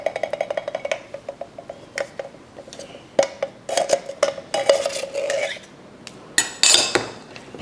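A spoon stirs a thick cream style corn souffle mixture in a bowl, scraping and clinking against the sides in irregular bursts, close and fairly loud, with no talking.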